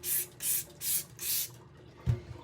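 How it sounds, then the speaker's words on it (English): A spray bottle of multi-purpose cleaner squirted four times in an even rhythm, each a close, breathy hiss, followed by a soft clunk as the bottle is set down. "I'm going to spray it with the multi-purpose cleaner"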